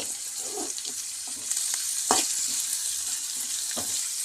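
Chopped onion sizzles in hot oil in a pan on the stove for a noodle breakfast, a steady close frying hiss with a few soft stirring clicks and no talk.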